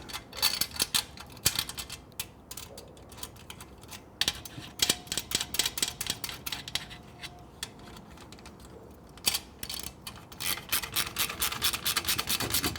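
A 10 mm socket ratchet tightens a clamp on a Triumph Bonneville T100/T120 exhaust, producing rapid clicking ratchet strokes in bursts with short pauses. The sound is close and crisp, and no one speaks.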